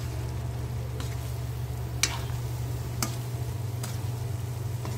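Bottle gourd and chicken stir-fry in a pan under a constant low sizzle and hum, with three sharp scraping taps of a spatula about a second apart.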